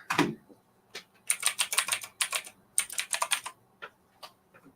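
Fingers tap out a search on a keyboard in quick bursts of clicky keystrokes, close and crisp, with brief pauses between runs of keys and no talking.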